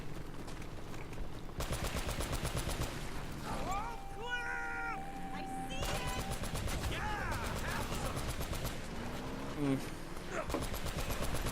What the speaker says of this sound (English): you do have to shoot the log or else you will die